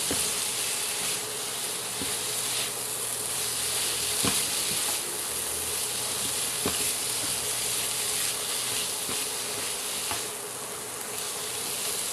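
Shrimp sautéing in a pan for ampalaya with shrimp, a continuous close sizzle and hiss with occasional sharp clicks of stirring, no voices.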